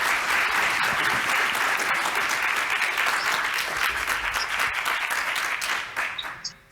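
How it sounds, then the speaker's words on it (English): An audience applauds a panel at an AI summit in Scotland, with steady, loud clapping throughout that fades out at the end. "Can you please give a warm round of applause to our fantastic panel?"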